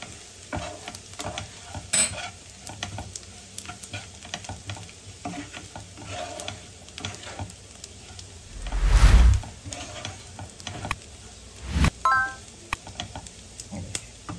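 A stuffed pepper filling with mint and garlic is being stirred and blended in a bowl or pan, soft scraping and clicks with a couple of louder knocks and thumps, set against a faint background sizzle.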